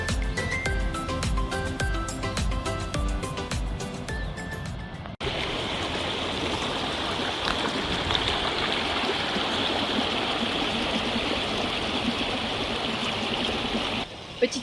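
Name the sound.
flowing river, Elliott River on the Great Ocean Walk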